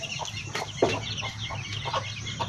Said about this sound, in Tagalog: Ayan mga manok.